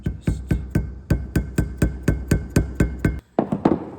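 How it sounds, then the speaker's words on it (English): A small hammer taps a wheel hub seal into place on a 1972 Toyota Corolla during a strut and hub restoration: about a dozen sharp, evenly spaced taps, close and clear, then a short pause and a few quieter knocks. "And we use a little hammer"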